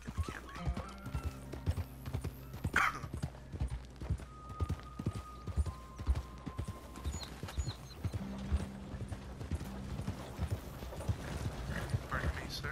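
A horse in Red Dead Online trots along with steady clip-clop hoofbeats and the odd whinny, alongside ambient game sounds and brief musical tones, with no talking.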